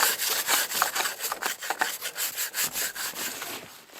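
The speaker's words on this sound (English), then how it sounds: "I'm gonna give the skis a quick wipe with this scraper." Handheld scraper rasps snow and ice off skis in a frigid -25° winter camp, a close series of rough, rhythmic scraping strokes with no talk.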